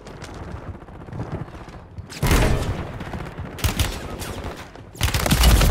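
Bursts of automatic gunfire in Call of Duty on Rebirth Island, quieter rattling shots at first, then several loud, close volleys of rapid fire with short pauses between them.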